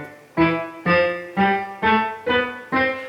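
A major scale played on a keyboard piano in a deliberately choppy, detached way: six separate notes struck at an even pace, each cut off before the next, close and clear with no talking.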